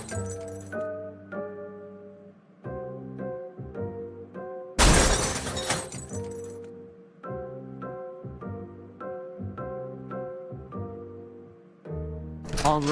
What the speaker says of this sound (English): I'm going to break it open with a fire extinguisher.